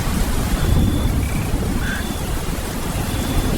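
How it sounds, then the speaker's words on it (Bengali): A Kalbaishakhi spring thunderstorm pours rain over a Bengal village, a loud, continuous roar of rainfall and low thunder rumble filling the clip without voices. "বৈশাখের ঝড় বৃষ্টিতে গ্রাম বাংলা যেন এক অন্য রূপ নেয়"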